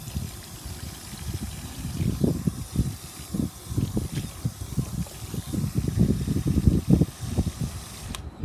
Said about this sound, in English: So I'm gonna water it real good,